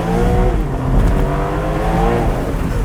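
A Porsche 911 Turbo S engine holds a steady, full-bodied exhaust drone that rises slightly in revs, loud and close throughout, with no voices.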